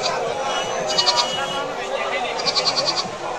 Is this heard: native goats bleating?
yes